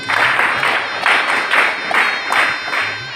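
An audience claps to honour the donors at a school event distributing notebooks, pens and uniforms to poor children, with loud applause rising and falling in waves over several seconds.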